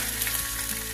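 Curry leaves hitting hot oil with asafoetida and cumin, with the gas turned off, giving a brief loud, dense crackling sizzle throughout.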